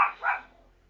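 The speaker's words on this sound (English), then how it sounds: "sorry, that's my dog barking." A small dog gives two quick, loud yapping barks close by, the second fading into a brief tail of quiet.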